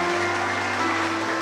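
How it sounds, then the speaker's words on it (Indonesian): Guests at a wedding reception clapping together, a dense steady burst of applause under a faint hum of the venue's sound system, with no talk. "Kita beri tepuk tangan dulu buat Safiq dan juga Nisa."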